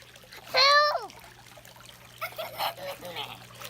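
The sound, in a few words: water splashing in a pool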